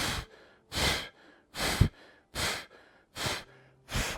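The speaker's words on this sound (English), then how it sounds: "And then sharp exhales, pulling the knee," Six sharp, forceful exhales during a chair yoga lower-body exercise, each a short broadband burst of breath about every 0.8 seconds, close and steady in rhythm with brief silences between.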